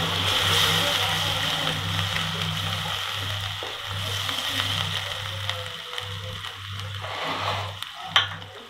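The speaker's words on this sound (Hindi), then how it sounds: "अब जो ये पालक की ग्रेवी है उसको डालते हैं। ग्रेवी को अच्छे से मिक्स करेंगे।" Spinach gravy for palak sabzi sizzling in a hot pan as it is stirred in, with a steady frying hiss over a low pulsing hum and a few faint utensil taps, close and fairly loud with no talk.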